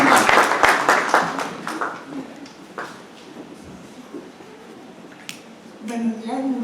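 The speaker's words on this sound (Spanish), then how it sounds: "les pido a todos que las recibamos con un fuerte aplauso" Brief applause at a medical tribute event, a burst of clapping from the audience at the start that thins out into scattered claps, with a voice beginning to speak near the end.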